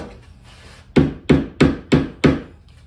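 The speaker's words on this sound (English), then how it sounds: "Hammer in some dowels." Wooden dowels hammered into a pickleball paddle rack: five sharp, evenly spaced hammer blows on wood, close and loud, after a brief quiet scrape.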